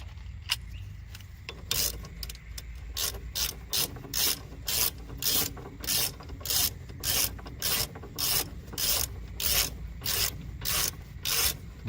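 Ratchet wrench tightening front brake caliper bolts on a 1995–2007 Ford Econoline van, a steady run of close, crisp ratcheting clicks in regular strokes over a low outdoor rumble, with no talking.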